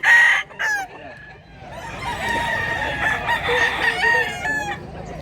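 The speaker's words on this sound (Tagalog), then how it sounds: "Daghan ng manok" Several roosters crow loudly one after another at a chicken market in Mantalungon, Cebu, overlapping calls with clucking fowl around them, near and prominent.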